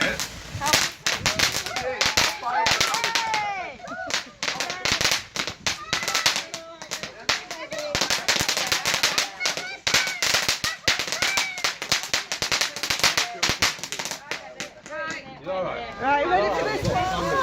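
Firecrackers go off on Bonfire Night as a rapid string of sharp cracks and pops lasting many seconds. Excited voices and chatter from a group nearby come through between the bangs.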